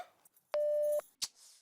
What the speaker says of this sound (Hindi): घर का फोन बिजी आ रहा है।